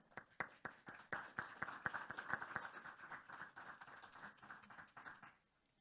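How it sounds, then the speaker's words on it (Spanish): Audience applause for a panel at an internet governance forum session in Colombia, a burst of hand claps that swells quickly, holds steady, then tapers off to silence over several seconds. "Buena manera de empezar con este aplauso para ellos"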